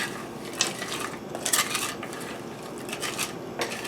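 Frozen vegetables tumble into a pan on the stove, making close rattling clinks and scattered hard patters, with a few brighter clatters over a low background hiss.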